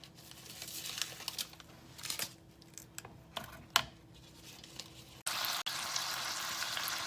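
About half a pound of thinly sliced, chopped and shaped beef sandwich steak frying in a pan for a Philly sandwich, a steady close sizzle and crackle with scattered pops, growing louder and denser toward the end.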